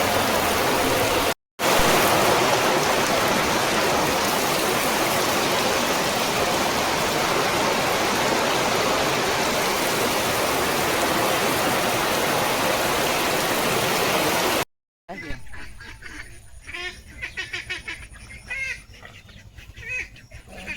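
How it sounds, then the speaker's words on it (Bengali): Dense, steady roar of heavy rain pouring continuously, loud and close, then a brief gap before a quieter patch with faint voices and rain. "দেখো কি হারে বৃষ্টি হচ্ছে"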